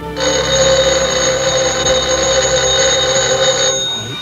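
An old telephone bell rings loudly and continuously for a few seconds, then stops.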